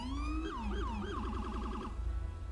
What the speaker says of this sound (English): So there's all kinds of sirens that you hear in this server all the time,